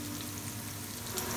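Prawns fry in a pan with a soft, steady crackling sizzle, quiet and continuous for a brief moment, with no voices.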